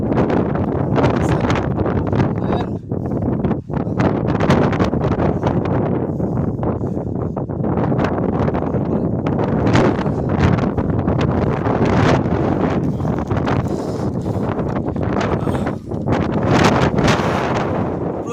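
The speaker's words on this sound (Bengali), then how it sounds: "অনেক বাতাস।" Strong wind blowing outdoors near high hills, roaring and buffeting continuously across the microphone with loud rumbling gusts and no pauses.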